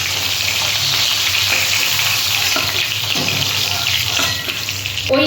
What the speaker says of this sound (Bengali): ওই তেলেতে আমি পটলগুলো ভেজে নিচ্ছি।